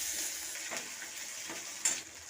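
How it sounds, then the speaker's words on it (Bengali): Chopped onion with a green chili and diced tomato frying in a pan, a steady close sizzle with soft scraping stir strokes and one brief sharper clink near the end, no voices. "কুচনো পেঁয়াজটাকে ভেজে নেবো"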